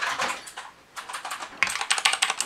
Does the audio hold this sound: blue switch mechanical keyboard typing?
yes